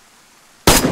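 A single sharp, loud gunshot in the video game DayZ cracks out near the end after quiet background, with a short ringing tail.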